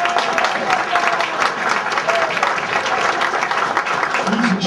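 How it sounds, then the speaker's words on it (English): Crowd applause at a middle school football game, a steady broadband wash of clapping that holds for several seconds, with a voice faintly audible underneath. "Yes, give him a round of applause."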